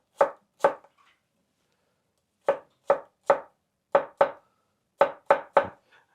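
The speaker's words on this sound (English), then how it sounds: "I will add these sort of a new set of horizontal cuts there" Sharp knife cutting an onion on a cutting board, crisp isolated chops in small clusters of two or three with pauses between, close and clear with no talking.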